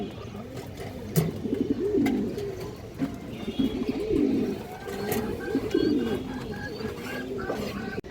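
Large domestic pigeons from a high-flying breed collection coo in repeated low, throaty rolls, several birds close by with overlapping calls across the whole stretch.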